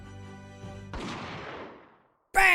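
A single gunshot in The Great Ace Attorney 2 video game: one sharp blast that rings out and decays over about a second after a low musical bed, followed by a sudden new sound.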